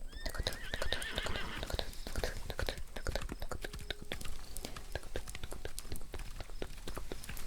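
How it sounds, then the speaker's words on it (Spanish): A horse whinnies near the start, a shrill wavering neigh over busy clip-clopping hooves and chewing sounds that continue steadily to the end, close and crisp. "ese poder de repente fueron interrumpidos por el sonido de un caballo"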